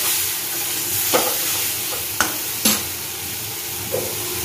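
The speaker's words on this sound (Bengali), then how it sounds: "জল আদা বাটা দিয়ে দিই।" Food sizzles loudly in a pan after water and ginger paste are added, a steady frying hiss with a few sharp clinks of a spoon stirring, no talk.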